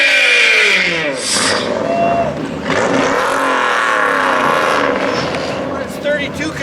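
Race cars at a NASCAR-style speedway fire up and rev on race day, engines roaring and surging in overlapping bursts, with a loud announcer and crowd voices over the din.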